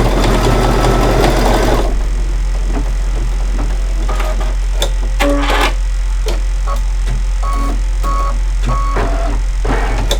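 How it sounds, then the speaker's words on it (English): An embroidery machine stitches a quilt block, beginning with a dense mechanical whir and then settling into a steady hum with scattered clicks and ticks from the needle and frame, close by with no talking. "Just going to embroider the block, set it aside, and move right along."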